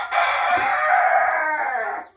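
Egg-laying hens calling continuously with layered squawking and clucking tones, close and loud, in Jaffna, Sri Lanka, filling the whole moment without any talk.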